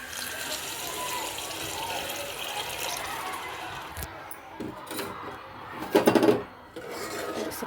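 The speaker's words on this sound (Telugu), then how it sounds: "ఇప్పుడు వాటర్ వేసుకుందామండి" Water poured into a pan of prawn and raw mango curry gives a steady rushing splash for several seconds, then a short clatter and more pouring noise; no one speaks.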